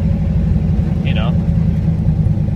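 A car engine idles steadily, a continuous low rumble throughout, with a short faint chirp in the middle.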